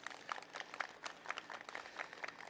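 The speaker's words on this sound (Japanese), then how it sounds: "大きな拍手でお迎えください" Audience at a Hyogo racing ceremony applauds a newly debuting 19-year-old jockey, a steady patter of clapping from a modest crowd with no talk over it.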